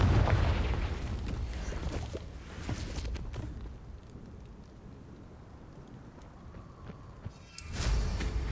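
A Confringo blasting spell erupts in the Hogwarts Legacy video game as a loud, rumbling explosion that decays into a low, crackling tail, then a second burst flares up near the end.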